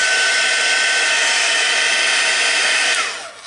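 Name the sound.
heat gun blasting to dry lettering for heat embossing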